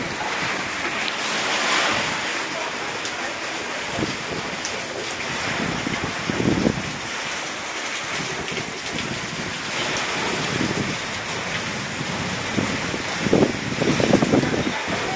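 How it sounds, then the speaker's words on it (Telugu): A windstorm with rain roars around the recorder, a constant heavy rush with gusting surges and sharp buffeting thumps against the microphone, no voices standing out. "తుఫాన్ కాదు ఇది, గాలివాన."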